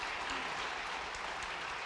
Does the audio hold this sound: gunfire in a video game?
no